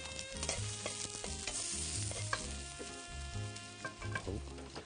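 A chef stir-fries diced beef tenderloin in a hot wok with a loud sizzle, while metal utensils scrape and clank against the pan in quick, irregular strokes.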